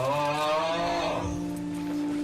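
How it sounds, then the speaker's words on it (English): A cow moos in the Red Dead Online game, a single drawn-out low call lasting about two seconds, close and loud over steady background ambience. "What does the cow say?"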